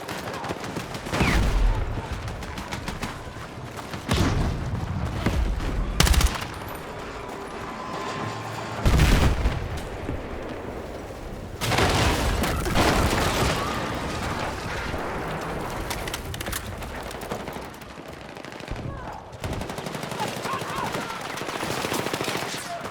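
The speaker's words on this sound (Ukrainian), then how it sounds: "Абсолютно всі звуки від пострілів зброї і криків солдатів до вибухів на різних відстанях звучать одночасно епічно і автентично" Battlefield 6 combat fills the scene with machine-gun bursts, rapid gunfire and heavy explosions at varying distances, loud clusters of shots separated by brief lulls, with soldiers' shouts mixed in.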